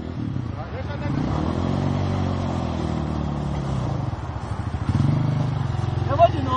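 A trail motorcycle revs and strains while accelerating uphill on a dirt trail, its engine note rising and surging close by, with people talking and shouting over it.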